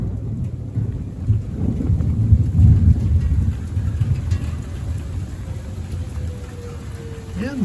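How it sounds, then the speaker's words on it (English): Low rolling thunder rumbles continuously beneath steady rain, swelling loudest midway and easing off, with a faint rising tone near the end. "And looks like the thunderstorm is right on schedule."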